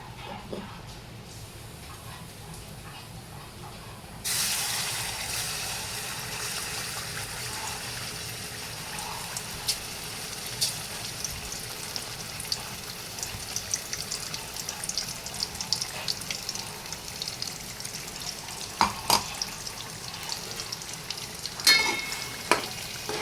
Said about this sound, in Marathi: चला आता आपण वाटण ना तेलात ओतून घेऊ